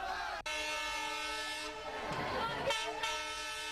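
A passenger train pulls into a station in Shekhawati, Rajasthan, on its arrival from Sikar and is met by a welcoming crowd, sounding long, loud, sustained horn blasts with a brief break near the start over the rumble of the rail cars.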